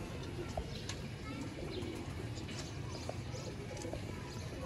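Lightweight crossbred pigeons coo softly and repeatedly against a steady background hum, with faint scattered noises around them.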